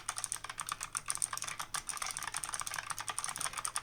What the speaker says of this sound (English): I'll click and clack a little bit on the keyboard here again